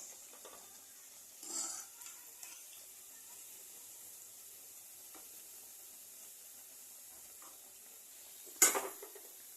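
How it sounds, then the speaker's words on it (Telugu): Sweet potato vadas fry in hot oil with a faint, steady hiss, broken by a soft stir early on and a sharp utensil clink near the end. "గోల్డెన్ బ్రౌన్ కలర్లో వచ్చేంత వరకు ఫ్రై చేసుకోవాలి"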